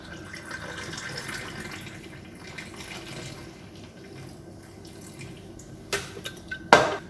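Liquid poured for a mojito cocktail using a flat pour, a soft continuous trickle and splash at moderate distance, ending with a couple of sharper clinks and splashes near the close.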